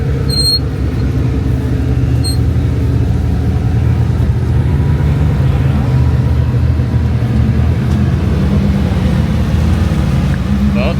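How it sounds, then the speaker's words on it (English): Koenigsegg Regera supercars starting up and pulling away together, a loud sustained low engine rumble with steady idle and revving, plus a couple of brief high squeals near the start. "All of the Koenigsegg starting up, ready to take off."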